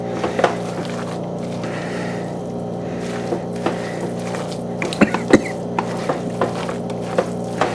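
Fish cake mixture of striped bass is folded together in a bowl, giving soft wet stirring and squelching with occasional sharp clinks of the utensil against the bowl, close and moderately loud throughout.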